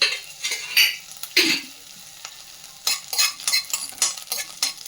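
Green chillies fry in a pan, giving a light sizzle under repeated scraping and clinking as a spoon stirs them, close up, in short irregular bursts with quiet gaps.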